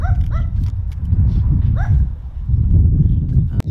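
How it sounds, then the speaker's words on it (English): A dog barks several times in short, sharp bursts, some yelping, set against a low rumbling background; the barks come in uneven clusters early and again midway. "This dog is so far away, yet he is so bothered."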